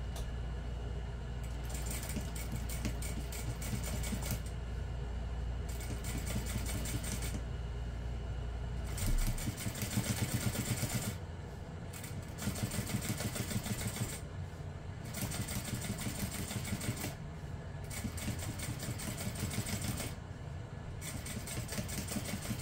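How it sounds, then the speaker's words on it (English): A sewing machine runs in steady bursts, top stitching through a handbag's top panel and pressed-up seam allowance, a continuous mechanical whir with short pauses between runs. "now we're going to top stitch through the top panel and through the seam allowance"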